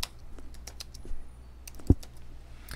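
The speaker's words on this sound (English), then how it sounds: "if I just type a word" Keys clicking on a computer keyboard as a single word is typed, a short run of light, scattered taps with one sharper keystroke, quiet and close with no voices.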